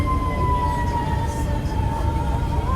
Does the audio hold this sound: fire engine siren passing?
yes